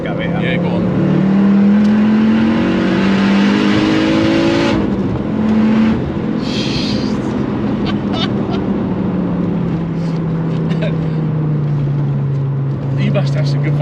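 A turbocharged MK6 Ford Fiesta RS fitted with a Focus RS 2.5T engine accelerates hard, its engine note climbing through revs, dropping at a gear change, then pulling again, loud and close inside the cabin while occupants talk.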